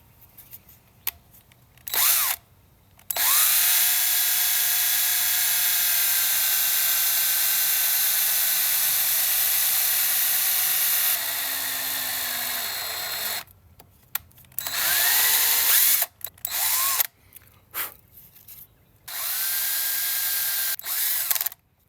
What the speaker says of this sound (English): I'm gonna drill them out with I guess a 1/4 inch drill bit, maybe a little bigger.